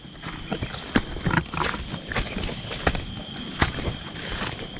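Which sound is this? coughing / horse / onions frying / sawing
horse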